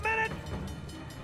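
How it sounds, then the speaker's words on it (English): In the video game Uncharted: The Lost Legacy, an approaching train sounds a short, loud horn blast over a low rumble of rolling carriages. "Train's getting closer!"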